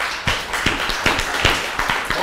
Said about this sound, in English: I want you to know this is polite applause